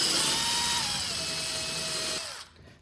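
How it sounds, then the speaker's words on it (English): A power drill whines steadily at high speed while drilling a hole in wood, its pitch dipping slightly under load before winding down and stopping. "drill out my hole"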